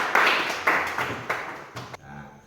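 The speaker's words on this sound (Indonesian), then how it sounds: "Berikan tepuk tangan untuk kelompok 2." A classroom full of students claps for a student group after its presentation: a few sharp, loud bursts of clapping that quickly fade to quiet.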